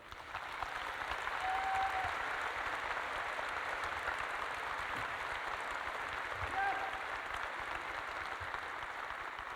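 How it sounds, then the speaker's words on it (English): A commencement audience at a South Dakota School of Mines ceremony applauds its faculty, dense sustained clapping from a large crowd filling a hall, steady throughout with a faint voice or two underneath. "it would mean a lot to them if you gave them a round of applause for all that they've done for you"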